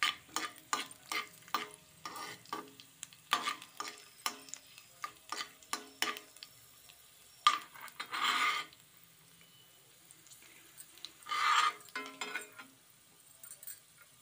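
Mustard seeds, cumin and chana dal fry in an iron pan, giving quick bursts of crackling pops and scraping stirs in an uneven rhythm, with two longer hissing sizzles and quiet gaps between.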